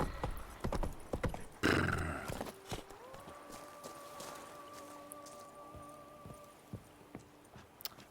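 Hoofbeats from the horse Roach in The Witcher 3 patter unevenly in the game, with a loud whinny early on, then a long tonal rising sound as scattered hoof clops continue at moderate distance.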